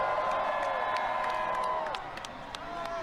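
A concert crowd at a Thanksgiving show cheers, whoops and claps, a steady loud roar of many voices with scattered sharp claps and shouts that eases slightly near the end.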